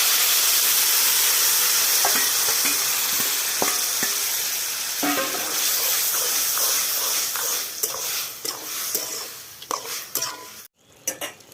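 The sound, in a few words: boiled bottle gourd frying with prawns, stirring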